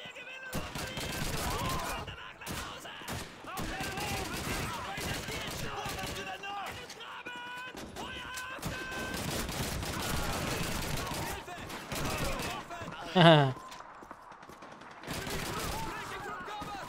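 Gunfire in the video game Call of Duty 2 during the City Hall mission: dense bursts of automatic fire and scattered shots crackle continuously, with one sharp louder blast near the end and voices talking underneath.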